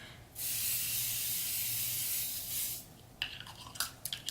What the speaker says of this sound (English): I'm just spraying my face right now